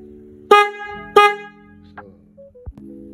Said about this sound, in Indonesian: Dan ini suara klakson merek Boss yang tipe Keong ya.